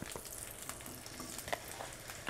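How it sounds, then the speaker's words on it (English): Pearl onions frying in about a tablespoon of clarified butter in a saucepan give a faint, steady sizzle with a few small pops, close and unaccompanied by talk. "heat up a saucepan and put about a tablespoon in. And then you just put the pearl onions"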